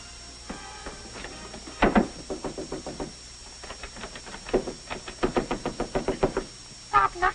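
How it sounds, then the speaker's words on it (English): Knuckles rap on a door in a 1937 film comedy, with several quick bursts of sharp knocks in uneven clusters. The knocks come close and loud and repeat insistently over a faint background hiss. "Stop knocking at that door."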